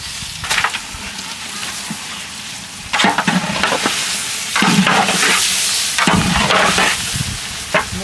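Chicken pieces sizzle and fry in cooked-down spiced masala with oil for a village-style chicken biryani, a steady close crackle with louder bursts of stirring and scraping every few seconds, no voices.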